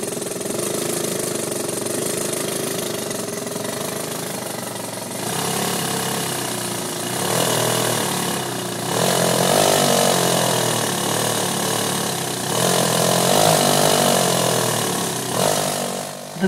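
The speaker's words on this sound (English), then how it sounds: "Note how quickly the engine spools up to high speed with the rapid injection of water" A BRASH steam-injected engine on a test run spools up from a steady mid-pitched idle to a louder, rising roar as water is injected, the sound swelling in stages and staying close and continuous throughout.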